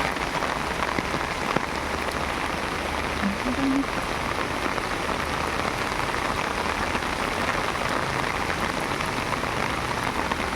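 Heavy rain pours down steadily and loudly throughout, a dense unbroken hiss of water hitting surfaces nearby, with no pauses.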